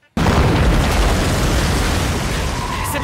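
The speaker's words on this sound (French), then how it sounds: "L'intempérie refait des siennes et réussit à exploser la route sur laquelle ils sont." A massive explosion blows up a road after a brief near-silence, then a loud, sustained roaring rumble with crackling debris continues to the end.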